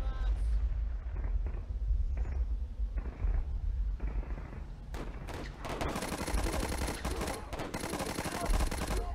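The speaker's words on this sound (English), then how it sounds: "I hate machine guns. I really hate them." Machine gun fire in the Warfare 1917 flash game, bursts of rapid gunshots that build into dense, loud continuous firing over battle noise.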